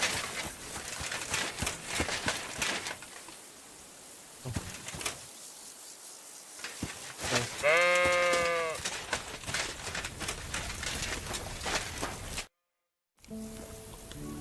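Sheep bleat in Kingdom Come: Deliverance II, one clear wavering harmonic bleat standing out mid-scene over steady game ambience and background noise, with a brief dropout near the end.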